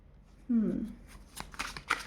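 A deck of tarot cards being shuffled close up, a quick riffling flutter followed by a few sharp card snaps, with someone speaking over it.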